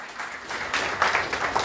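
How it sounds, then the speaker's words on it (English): Audience applause for a student performer named Napoleon at a spring music recital, a moderate, steady wash of clapping that swells slightly after the first moments and continues throughout. "Big round of applause, guys. Come on for Napoleon."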